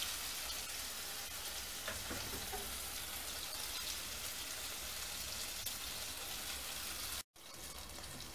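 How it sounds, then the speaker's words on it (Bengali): Pangas fish frying in a pan for a Bengali-style curry, giving a steady, even hiss of oil that runs almost unbroken before one brief dropout near the end. "সবকটা মাছ আমি ভেজে তুলবো।"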